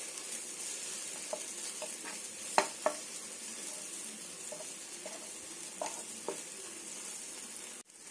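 Tomatoes sauté with chili powder in a pan, giving a soft steady sizzle with occasional louder pops and spatula clicks, close up and without talk.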